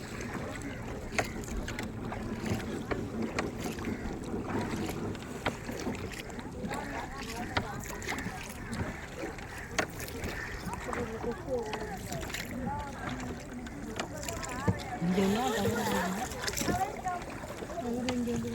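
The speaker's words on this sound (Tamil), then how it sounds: "நிறைய போட்டுங்க இருக்குது. 40 நிமிஷம் அந்த சைடு நிறைய போட்டுங்க இருக்குங்க." Boats on water near a fishing area, with engine hum, lapping and splashing mixed with ambient noise under ongoing talk.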